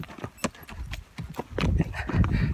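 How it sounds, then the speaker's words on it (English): Horse hooves clip-clop steadily and close by during a trail ride at a monarch butterfly sanctuary in Mexico, with rustling and shuffling around the hoofbeats. "So we are now riding a horse."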